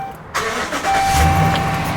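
A pickup truck engine cranks and catches, then settles into a loud, steady running rumble close by, with no voices over it.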